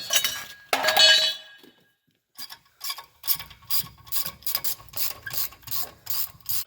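A hand ratchet clicks in quick close bursts while loosening bolts on a Dana 60 front axle, with a metallic clink, a brief pause, then repeated ratcheting strokes.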